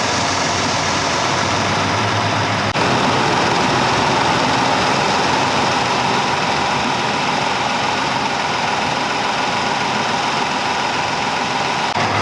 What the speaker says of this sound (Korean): 엔진은 V6 스타트에 정숙하고